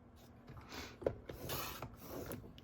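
Paper mat for a recipe book trimmed by hand, with soft, close scraping and slicing strokes in short bursts and a small click, quiet and without talk.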